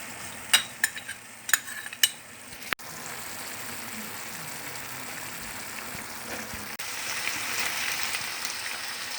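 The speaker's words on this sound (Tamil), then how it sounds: "தக்காளி நல்லா வதங்கிட்ட பிறகு இதையும் எடுத்து கொட்டி வதக்கணும்" Tomato, vegetables and carrot are sautéed in a pan, starting with a few sharp clacks of a utensil stirring, then a steady soft sizzle of frying that grows slightly louder toward the end.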